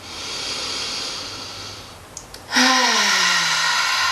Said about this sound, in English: taking a deep breath in through your nose